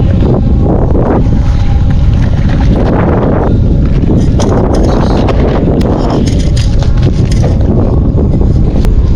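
Strong wind beneath a bridge while fishing buffets the microphone in loud, continuous roaring gusts, with a watery, boat-like wash underneath.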